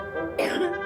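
A patient with asthma-like symptoms gives a single short, harsh cough in a doctor's surgery, close up and brief, with no talking around it.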